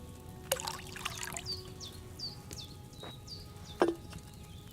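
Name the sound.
pouring wine into cauldron in video game Kingdom Come Deliverance II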